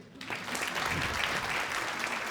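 Audience applause at a live comedy show, a steady wash of clapping from a crowd that starts almost at once and holds at an even level throughout, with faint voices underneath.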